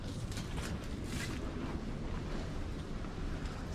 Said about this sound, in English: Wind is just like so strong.